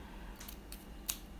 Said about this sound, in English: I'm going to gently put the scissors not on the Braille but against the Braille so that it cuts it